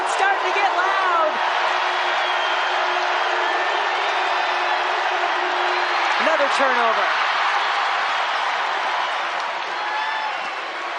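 Basketball crowd at a Notre Dame versus Mississippi State NCAA tournament game, a broad steady roar of fans building in the arena under play-by-play commentary, with a few squeaks and whistles poking through.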